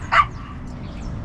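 A single sharp dog bark near a riverside fishing spot, loud and brief, followed by low background noise.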